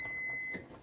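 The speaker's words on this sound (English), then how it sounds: "my timer has gone off." A kitchen timer beeps during pressure canning of potatoes in a home kitchen, a steady faint electronic tone held for about half a second before cutting off, with quiet room noise afterward.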